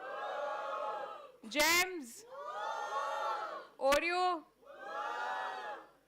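Members of Team Perk in the audience cheer and whoop in three sustained bursts, broken by two short stretches of loud, excited shouting.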